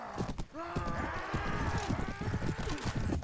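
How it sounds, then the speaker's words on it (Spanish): Horse hooves clip-clop in a Mount & Blade Warband battle, a steady rhythm of close, fairly loud steps mixed with game noise and a few tonal sweeps, without clear speech. "Que ahora mi caballo va extra lento."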